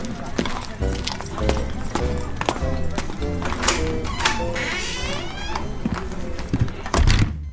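In a French audio drama, a horse-drawn carriage's hooves clip-clop in a steady rhythm beneath busy voices and other staged sounds, with people talking throughout.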